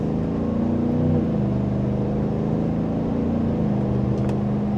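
A GMC Sierra AT4X truck engine hums and revs steadily from inside the cab in sport mode, its low drone rising in pitch as it accelerates in second gear, dips briefly at a shift, then climbs again.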